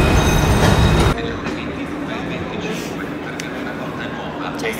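Inside a train station in Milan, a loud rumble in the opening second drops to a steadier hall ambience, with the murmur of background voices and occasional clanks.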